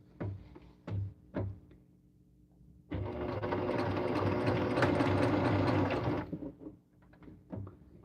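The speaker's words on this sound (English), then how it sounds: "when I'm sewing these cornerstones on here, I'm not pinning, I'm just lining them up" A sewing machine stitches quilt cornerstones in a short, steady burst of about three seconds, with soft knocks and handling sounds before and after, close and fairly quiet.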